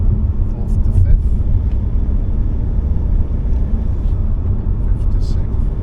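Car engine rumbling loudly as it accelerates through the gears, a continuous low drone with voices talking over it.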